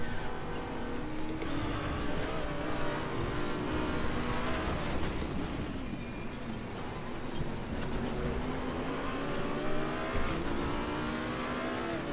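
A race car in RaceRoom Racing Experience is driven sideways, its engine droning and revving continuously at high pitch, rising and falling with throttle and gear changes, loud and close throughout.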